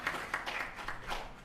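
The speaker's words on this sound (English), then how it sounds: "A bigger round of applause" Faint, distant applause patters from the crowd at a human rights forum held by a legal and constitutional affairs ministry, a soft continuous wash of many hands.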